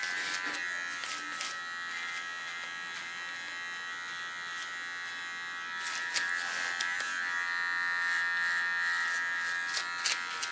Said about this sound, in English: With my small tornado clipper, I show you the Batman lines.